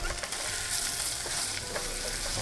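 Meat hits a pot of beef bone soup with perilla oil and sizzles loudly and steadily with constant frying crackle, close by and without talk.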